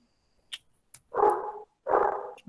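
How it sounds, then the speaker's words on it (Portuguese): A neighbor's dog barks nearby: a couple of short yips followed by two full, loud barks, with quiet pauses between. "Se vocês ouvirem o barulho de cachorro, é o cachorro do vizinho aqui de casa"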